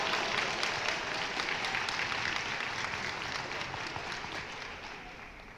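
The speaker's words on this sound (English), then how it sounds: "Let's give her a big applause." Steady audience applause at a speech contest, honouring the first-place winner, a dense wash of many hands clapping that fades slightly toward the end.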